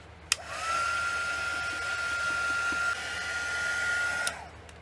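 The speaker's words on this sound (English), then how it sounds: "I'm going to heat, hit that with the heat gun just for a few seconds" A heat gun blows on a miniature doll, switching on with a click into a steady whirring hiss with a high whine, running for about four seconds before clicking off, close and alone.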